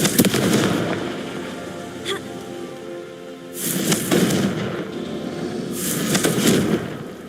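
The Confringo blasting spell in Hogwarts Legacy gives two sharp, crackling explosive bursts several seconds apart. A low rumbling background hangs between them, moderately loud.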